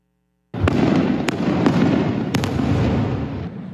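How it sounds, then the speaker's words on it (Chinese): Eight minutes of professional aerial fireworks for a housewarming in Chiayi city, a dense rumbling roar of bursts with a few sharp cracks standing out, loud and sustained after a silent start. "有民众入厝放8分钟的烟火来庆祝，因为放的是专业的烟火哦"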